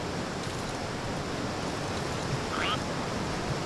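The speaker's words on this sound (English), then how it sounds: "and the water's loud." Loud, continuous rush of water and waves in the video game Grow Home, a dense steady roar with no pauses, heard alone.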